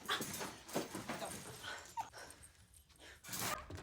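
A distressed dog whimpers and yelps in short bursts amid a dramatic scene, the cries rising and falling over a few seconds with some breaks of near silence.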